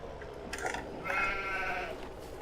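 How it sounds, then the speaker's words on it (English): Sheep bleat in a farming video game, a pen holding about 200 of them, with a mid-level bleat rising and holding for about a second amid a soft blend of flock noise and no talk. "Well, we've got a lot of sheep in there now."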